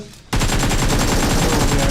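Sustained automatic gunfire in PUBG Mobile from an M416 rifle, erupting after a brief quiet moment into a loud, rapid continuous burst of shots that fills the rest of the clip.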